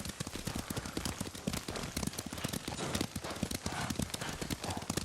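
Horse hooves clip-clopping in Ghost of Tsushima, a rapid, continuous rhythmic trot at close range, fairly quiet, with light rain-like hiss in the background.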